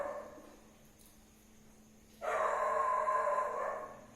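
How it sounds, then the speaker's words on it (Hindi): Dogs bark outdoors during a physics lecture in Hindi, starting suddenly after a quiet stretch and carrying on as a dense, continuous burst of barking for about two seconds, heard from a distance. "फिर से ये कुत्ते चालू हो गए।"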